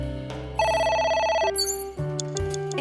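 A telephone rings in the video game AI: The Somnium Files, a loud trilling electronic ring that shifts into other synthetic tones and short bright blips.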